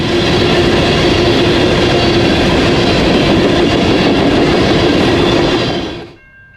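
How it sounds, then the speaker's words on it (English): A loud, steady rumble of an empty CSX coal train rolling past at track speed, with constant wheel and car noise that cuts off abruptly at the end. "empty coal train E50208 charges westward at track speed"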